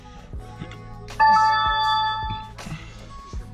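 A phone left inside a parked car sounds a message alert: one bright, multi-tone chime ringing out for about a second over a quiet cabin with a few soft low thumps.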